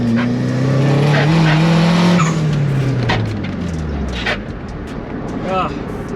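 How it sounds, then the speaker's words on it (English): A boosted Nissan 370Z pulls hard in third gear on an empty road, engine note climbing loudly then dropping as it shifts and backs off, heard from inside the car. "I'm gonna do a third gear pull because that's like gives us kind of consistent numbers."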